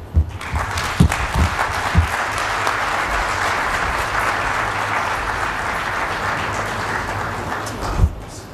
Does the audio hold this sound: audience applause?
yes